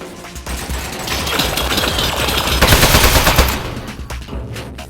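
Rapid machine-gun fire from a turret in the video game Aperture Desk Job, a dense continuous rattle that swells louder toward the middle and then eases off, with no talking over it.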